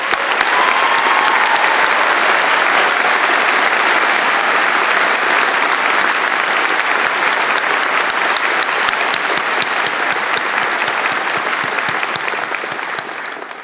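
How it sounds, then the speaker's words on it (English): Sustained, dense applause from a large convocation audience honoring the stage party at a university spring ceremony, steady and loud throughout before tapering slightly at the end. "Please join me now in acknowledging them with a round of applause."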